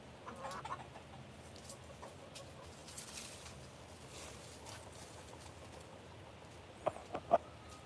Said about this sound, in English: I know that chicken.